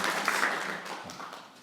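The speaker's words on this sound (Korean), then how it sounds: "박수도 받으시고" A church congregation applauds to welcome a member back to a Christmas Day service, a dense, steady patter of many hands clapping that fades slightly toward the end.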